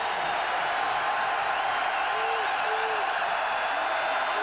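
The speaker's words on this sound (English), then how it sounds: "the crowd recognizing what a big play this is for the defense, and they're on their feet" A football stadium crowd at a 1999 UNC vs. Clemson game roars steadily for a big defensive play, a dense, continuous wash of cheering and applause with no break across the whole stretch.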